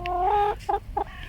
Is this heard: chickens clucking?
yes